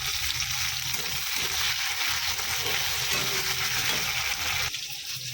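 Tomato sizzling in hot oil in a pan with fried onion, black cumin seeds and Bombay duck (lote fish), a steady close broadband crackle with stirring scrapes throughout, shifting slightly near the end, no talking.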